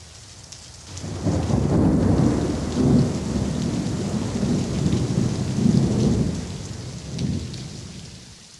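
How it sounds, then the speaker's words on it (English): Steady rain and rolling thunder from the 1994 PC game Secret Garden Interactive Moviebook, a dense continuous downpour with low rumbles swelling and fading throughout. "For a whole week it rained."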